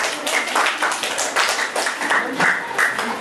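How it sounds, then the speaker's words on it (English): Audience applause at a school debate, a steady burst of clapping from many hands filling the room at moderate loudness throughout. "let's give a round of applause for the presentation of arguments by Joshua Lu Bismanos."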